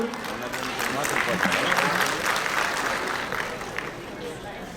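Applause from the audience at a public development-works inauguration ceremony in Bhavnagar attended by the Chief Minister, a broad steady wash of clapping lasting the whole stretch, fairly loud and even.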